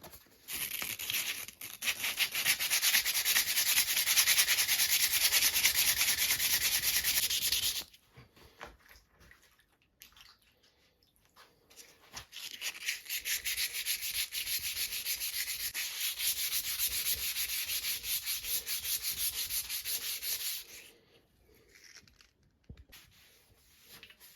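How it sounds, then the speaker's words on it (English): A stripped fishing boat rod being rubbed down by hand with 240 grit wet and dry sandpaper, heard as two long, steady stretches of close, hissing scratchy sanding with a quiet break between them. "I'm just going to start off with 240 grit wet and dry sandpaper"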